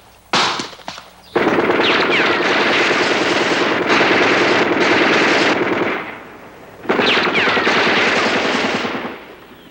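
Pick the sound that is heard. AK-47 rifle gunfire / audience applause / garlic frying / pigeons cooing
AK-47 rifle gunfire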